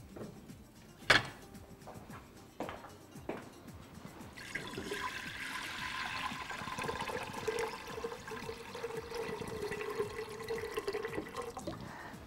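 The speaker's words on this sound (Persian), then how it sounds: "یک مقدار آب بهش اضافه میکنم." Water pours into a cooking pot set over a heated brazier while haleem is prepared. A few brief knocks come first, then a steady, moderately loud pouring rush that continues to the end.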